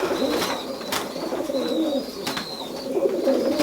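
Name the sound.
tippler pigeons cooing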